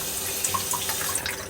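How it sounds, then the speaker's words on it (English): Water runs from a bathroom sink faucet in a steady, close hiss, with a few brief splashes and gurgles as it hits the basin. "I'm gonna run a little bit of water."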